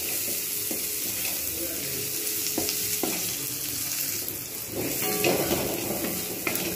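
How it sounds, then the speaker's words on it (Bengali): Onions fry in a pan until they turn reddish, the base for a dhaba-style egg tadka. A constant oily sizzle is broken by a few sharp utensil scrapes and clinks against the pan, and no one speaks. "পেঁয়াজটাকে আমি একটু লালচে করে ভেজে নেবো"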